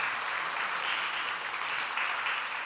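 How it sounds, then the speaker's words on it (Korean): Steady applause from a church congregation during a Sunday service, a dense, even patter of many hands filling the room with no talk over it. "박수로."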